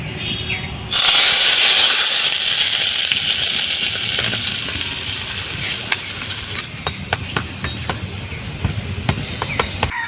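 Hot mustard oil erupts into a loud sizzle as ginger and garlic hit it, a sudden burst of hissing that slowly settles while stirring clicks and scrapes tick through the second half.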